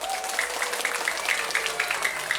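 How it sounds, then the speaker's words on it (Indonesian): An audience at an Islamic religious talk in Tasikmalaya applauds the organizing committee, a steady rattle of many hands clapping at moderate distance, with faint voices and a sustained tone underneath. "mohon berikan tepuk tangan semangat untuk para panitia"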